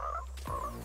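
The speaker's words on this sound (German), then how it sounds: "Was ist mit dem Frosch los?" A cartoonish frog in the video game Fortnite gives a short, close croak, loud and alone over a steady low hum.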